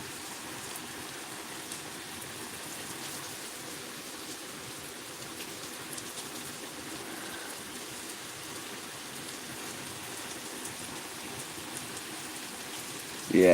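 Steady rain falls for a long stretch as an even, soft hiss of drops on surfaces, with no break in the wash of sound until a brief noise at the very end.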